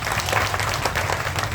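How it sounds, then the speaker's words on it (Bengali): Loud, dense applause from a crowd at a political party workers' conference in Dhaka fills the whole short burst, steady and close without a break. "আপনাদের একটা বড় হাততালি আমি চাই"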